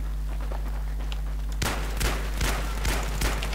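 After a low steady hum, four sharp, heavy .44 Magnum revolver shots from a video game ring out at roughly half-second intervals, loud and close.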